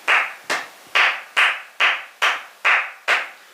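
Eight slow, evenly spaced claps, each a distinct loud smack with a short tail, heard alone with no talk, ahead of an Aston Villa vs Wolves preview.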